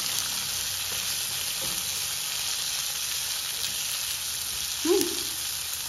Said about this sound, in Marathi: इथं 2 मोठे कांदे उभे चिरून घ्यायचे आणि हे सगळं छान परतून घ्यायचं।